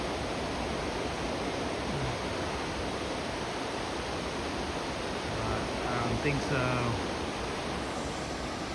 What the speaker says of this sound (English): Thought I'm gonna be able to see some cool waterfalls, and I can hear them